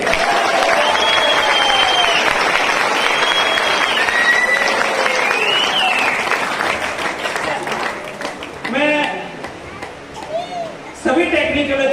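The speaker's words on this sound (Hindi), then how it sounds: "बजाओ ताली जोर से" A seminar audience breaks into loud, sustained applause that fills the hall for several seconds, with excited voices and shouts rising through it before the clapping thins out and a few people talk.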